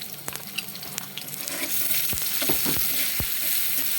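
Onion and garlic drop into hot soybean oil in a pan, the sizzle swelling louder after a moment, with a few sharp stirring scrapes and no voices.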